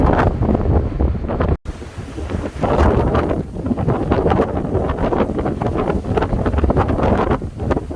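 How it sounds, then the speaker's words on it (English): Strong wind buffets the microphone in loud, continuous gusts, with a rushing, surf-like roar throughout, on a hiking trail descending from Cobbler Hill in Deep Creek National Park. "It is windy"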